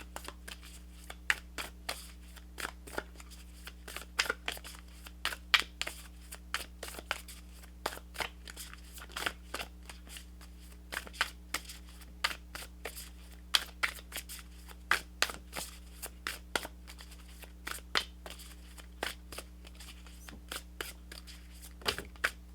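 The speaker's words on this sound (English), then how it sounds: "this is the Moonology Manifestation Oracle cards" Moonology Manifestation Oracle cards being shuffled, a long run of irregular soft flicks and slaps close up over a quiet steady hum, with no talking.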